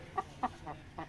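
An Aseel rooster of the Miyanwali breed clucks in four short, evenly spaced calls, close and fairly clear, with no talk over them.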